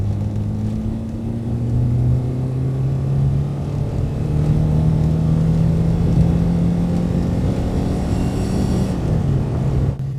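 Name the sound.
1982 Renault 5 Alpine Turbo Gordini accelerating full throttle in third gear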